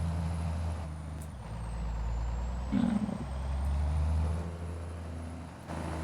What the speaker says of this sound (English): this truck kind of has an exhaust brake on it